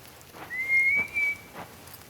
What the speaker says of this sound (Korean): 느닷없이 휘파람 소리가 들려옵니다.